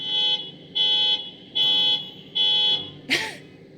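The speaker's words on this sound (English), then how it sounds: "someone's car alarm's going off" A car alarm blares in a steady on-off pattern, four evenly spaced tones, followed by a short sharp burst, heard from some distance.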